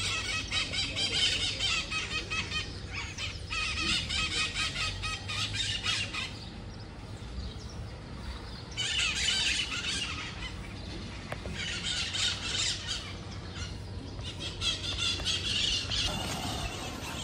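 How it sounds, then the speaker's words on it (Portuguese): Maritaca parakeets in a tree give loud, shrill screeches and squawks in clustered bursts a few seconds apart, a noisy flock calling over and over fairly near. "As maritacas estão acesas na árvore lá. Uma gritação de maritaca."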